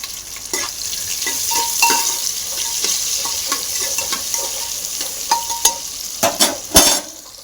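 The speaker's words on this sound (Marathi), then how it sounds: "कांदा टाकला कांदा पण लाल करून घे" Onion fries in a pan, a low steady sizzle under repeated scraping and clinking stirs of a spoon against the metal, with a few louder knocks near the end.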